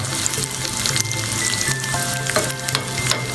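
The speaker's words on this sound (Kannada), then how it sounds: "ತುಪ್ಪದಲ್ಲೇ ಫ್ರೈ ಮಾಡಿದ್ರೆ ತುಂಬ ಚೆನ್ನಾಗಿರುತ್ತೆ ಇದು." Moong dal frying in ghee in a pan, a close, steady crackling sizzle with faint stirring, heard alone with no talk.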